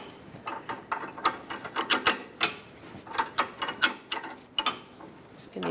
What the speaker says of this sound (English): use your ratchet also as the tightener once you get to a certain point